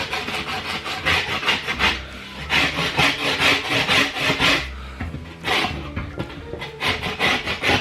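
Hand plane shaving the edge of a plasterboard sheet, a rapid series of close, rasping strokes in an uneven rhythm, with no talk.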